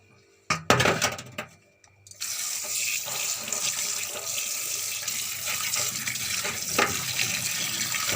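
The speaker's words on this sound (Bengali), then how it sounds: "চলো ধুয়ে পরিষ্কার করে নিই এগুলো" Whole rohu fish pieces are washed under a running kitchen tap, a steady loud stream of water splashing after a few sharp knocks and clatters at the start.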